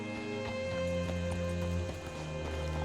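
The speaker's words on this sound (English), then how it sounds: "Hitch your horse up here." Horse hooves clip-clopping in the video game Red Dead Redemption 2, a steady walking rhythm of soft hoofbeats over a constant tonal game background hum, moderately quiet and without talk.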